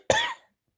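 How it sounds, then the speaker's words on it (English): A single short, dry cough bursts out close to the microphone and cuts off quickly, leaving silence. "this cough's getting ridiculous."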